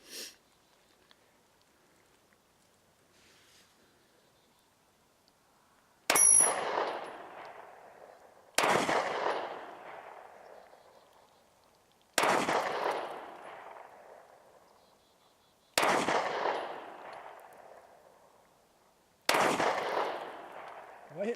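Five sharp 9mm pistol shots from an Honor Guard handgun, each a loud crack with a decaying tail, fired at a slow, irregular pace about every three seconds after a quiet start with faint background noise.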